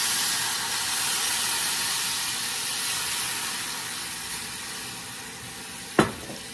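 White wine hitting a hot pan of sautéed broccolini, trumpet mushrooms and minced garlic gives a broad, steady hiss of sizzling and steam, close and unbroken, with one sharp knock near the end and no talking.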